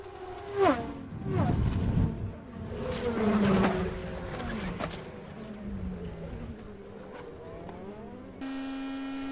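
Robert Wickens' red Schmidt-Peterson Motorsports IndyCar at Pocono rises from a distance into a loud, high-pitched engine whine with falling Doppler sweeps as it passes, other race cars buzzing around it, then a steady tone at the very end.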